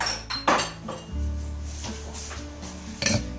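Someone rummages through kitchen dishes looking for a small plate or lid, with clattering ceramic and metal knocks, a clink of cutlery and a scraping shuffle, close and loud with no talking.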